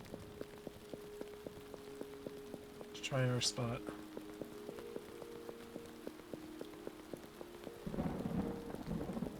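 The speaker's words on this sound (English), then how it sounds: "It's raining now." Steady rain with thunder in the video game Felvidek, a constant wash running under a person talking, with a deeper rumbling swell near the end.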